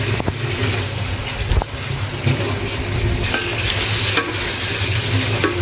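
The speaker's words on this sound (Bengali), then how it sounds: "মাংসগুলো এভাবে মিক্স করে নেব আমরা।" Small beef pieces stirred and fried in a pot for restaurant-style tehari, with a continuous close sizzle, spoon scraping and clattering against the metal throughout.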